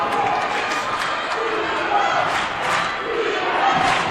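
A rowdy Hanover crowd at a girls' high school basketball championship game chants in a loud, rhythmic, repeated group cadence that fills the gym, with a commentator talking over it.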